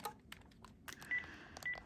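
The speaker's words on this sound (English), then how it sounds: "which just plays a regular beep, like the key tone" A Panasonic KX-TG938x cordless phone gives short key tone beeps as buttons are pressed, a quick series of faint clicks and brief electronic tones in a quiet room.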